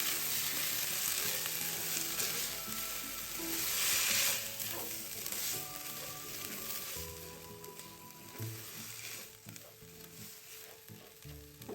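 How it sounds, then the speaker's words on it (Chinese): Glutinous rice stir-fries in hot oil with scallion and garlic over medium heat, giving a continuous close sizzle with occasional soft stirring scrapes and no talking. "在葱片与蒜末油爆至金黄色后，再将糯米一起加进来炒香"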